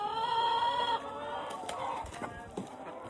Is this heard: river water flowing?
no